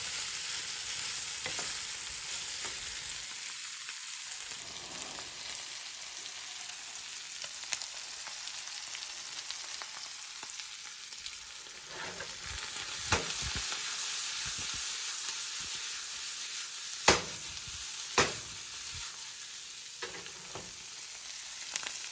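80-20 ground beef frying in its own rendered fat in a pan, a steady crackling sizzle with occasional louder pops and stirring scrapes, close and continuous with no talk.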